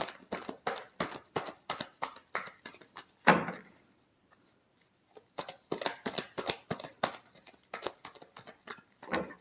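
Tarot cards are shuffled in quick riffling bursts of crisp paper flicks, close and fairly loud, with a brief quiet pause midway before the rapid shuffling resumes.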